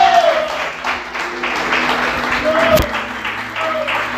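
A congregation at a church service claps together in a steady, moderately loud wash of applause, with voices and tonal sounds faintly mixed in beneath it.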